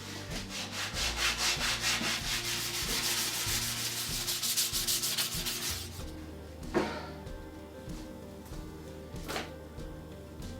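Steady rhythmic rasping as an old belt-sander belt is worked by hand along the edges of wooden skiff oar blades, close and fairly loud, with repeated back-and-forth strokes that fade into softer, sparser rubs and knocks.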